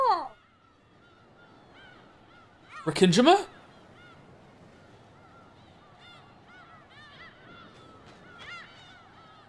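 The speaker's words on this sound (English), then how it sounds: "Same ass fucking seagull sound effect" Seagull calls from the game Pragmata, a loud burst of harsh squawking cries near the start with fainter gull calls scattered through the rest, someone speaking briefly among them.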